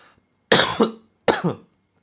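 Two close, forceful coughs, one after the other with a short pause between, surrounded by quiet.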